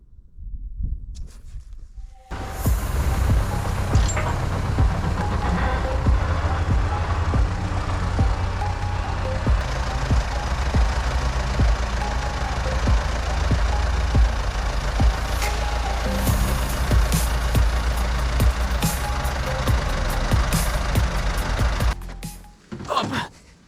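A T-40 tractor engine cranks briefly, catches and settles into a loud, steady diesel rumble as the tractor pulls away, then cuts off near the end.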